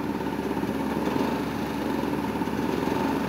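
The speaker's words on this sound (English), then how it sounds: "the generator's running out of fuel" A small generator engine, running low on fuel, runs steadily nearby with a rough, uneven chug as it begins to falter.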